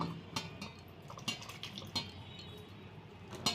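Besan batter being mixed with water and ginger-garlic paste for aloo chop: a few soft metallic clinks of a spoon against a bowl over quiet wet stirring, close and fairly faint, with no talking.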